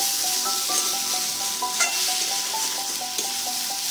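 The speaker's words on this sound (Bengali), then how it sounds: "ভাজা আলুটা দিয়েও একটুখানি ভেজে নেব" Fried potato pieces sizzle in hot oil with poppy seeds in a pan while being stirred, a steady close crackle broken by repeated light scraping and tapping of a spoon against the pan.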